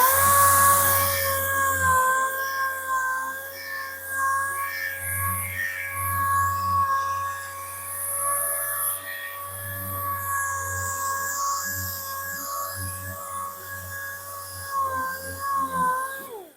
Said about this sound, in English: And you're probably already sick of listening to the compressor.